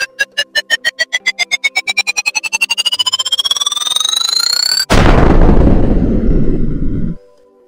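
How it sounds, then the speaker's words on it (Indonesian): An accelerating electronic beeping that rises in pitch, cut off by a loud rumbling car bomb explosion in an animation that roars for a couple of seconds before stopping. "Pak Reza lalu menekan tombol bomnya dan boom, mobil yang dikendarai Yudi meledak di tempat."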